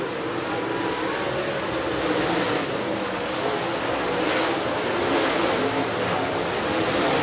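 Race cars roar around the track at a short-track oval racing event's fall classic finale, a steady dense wash of engine noise with crowd-like broadband rumble, no distinct pass-bys.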